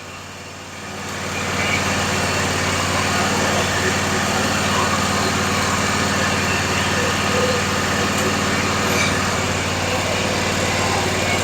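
The engine of a Toro Z580 zero-turn mower runs at a steady idle, a constant droning hum with a low tonal rumble that rises slightly in level after the first second and then holds even throughout.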